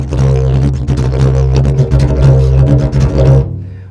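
A didgeridoo drone with a bad, uncondensed tone: a loud, buzzy, rough low drone with wavering overtones, played solo at close range, stopping shortly before the end.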